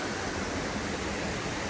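Steady rushing roar of waterfalls in Lady Northcote Canyon on the Hannels Spur walk, a broad unbroken wash of falling water close by, with no voices.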